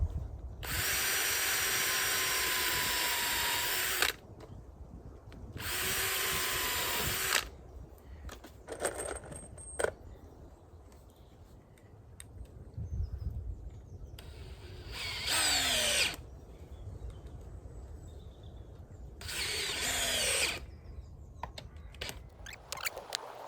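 A power drill drives screws into railway track sleepers while a set of points is repaired. Four loud, whirring bursts of a few seconds each are separated by quieter stretches of handling and clatter.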